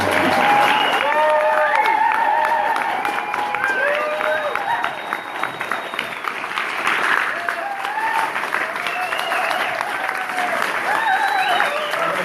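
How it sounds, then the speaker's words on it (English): An audience at a film presentation applauds steadily for the whole stretch, a dense, sustained wash of clapping with a few scattered cheers and voices mixed in. "ask everyone to clap for him"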